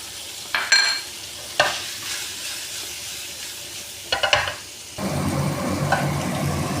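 Cut paneer frying in a pan gives a steady sizzle, with a few sharp stirring scrapes and clatters on top. The sizzle swells louder near the end.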